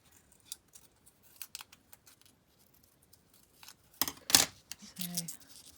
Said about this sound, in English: if I just draw a line there, I'll just cut that bit out